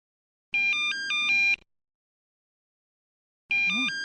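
A video game telephone ringing in two electronic bursts of warbling tones separated by a silent gap, clean and close, with a brief voice murmur at the start of the second ring.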